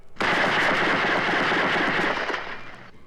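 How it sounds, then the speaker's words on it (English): Sustained M14 rifle fire rattles across a basic training rifle range at Fort Dix, New Jersey, a loud continuous volley of overlapping shots that starts abruptly and tapers slightly toward the end. "One of the frequent destinations is the rifle range, where the skills needed to master the M14 rifle are taught."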